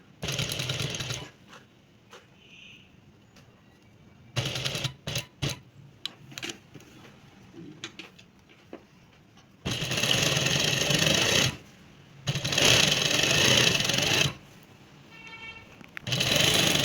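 Sewing machine stitching dori-piped lace onto dress fabric, running in several loud steady bursts separated by quiet pauses with small ticks and handling clicks.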